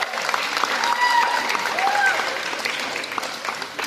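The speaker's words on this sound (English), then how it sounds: "Let's give a round of applause for that." An audience at a school board and city tennis event breaks into applause, a dense, steady clapping that holds for the whole stretch, with a few faint whistles or cheers riding on top.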